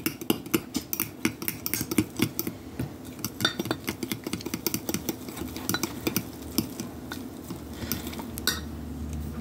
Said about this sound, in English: So I'm going to mix this all in